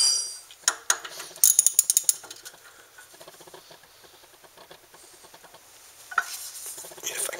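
A ratchet loosening caliper mounting bracket bolts on a Ford Focus during a brake job, giving quick rapid clicking runs early on, then quieter mechanical ticking and a final burst of clicks, with no talking.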